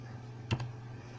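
Keys click on a computer keyboard in one quick, close double tap, fairly faint against a low steady background hum.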